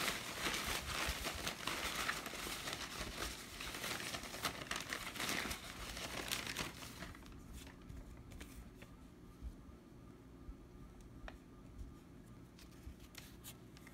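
Papery crinkling and shuffling of tarot cards, busy for several seconds, then fading to a quieter background with occasional light rustles.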